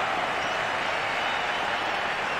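Steady, even applause from a large stadium crowd in the cricket video game Brian Lara International Cricket 2005, a continuous dense wash of clapping heard at a distance with no voices over it.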